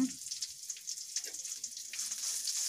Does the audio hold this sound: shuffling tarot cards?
no